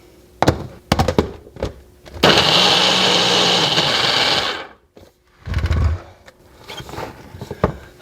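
A kitchen blender whirs loudly for about two and a half seconds, blending a protein smoothie with milk. Clunks and knocks of the jar being handled come before it, and more handling thuds follow after.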